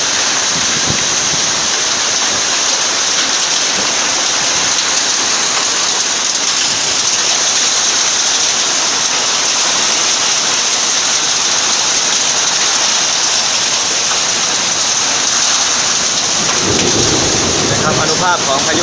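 Summer thunderstorm in Sakon Nakhon, Thailand, in April, with heavy rain and strong wind making a loud, continuous roar that stays dense and steady throughout.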